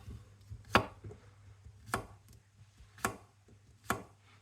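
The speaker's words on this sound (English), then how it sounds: "I'll show you how I'm going to slice up the cucumber" A knife slices a cucumber into chunky pieces on a board, four distinct sharp chops spaced roughly a second apart, close and clear against a quiet background with a faint low hum.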